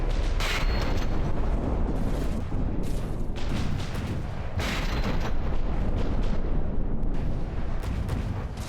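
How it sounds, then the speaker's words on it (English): Ammo compartments blowing up in the From the Depths video game produce a dense, continuous barrage of loud overlapping blasts and booms, with sharp bursts recurring throughout and no talking. "We exploded some ammo compartments."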